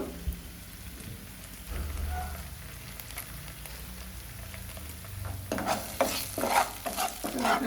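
Onions fry in a pan as ginger garlic paste is stirred in, making a soft, rain-like sizzle that grows louder and busier near the end as stirring picks up.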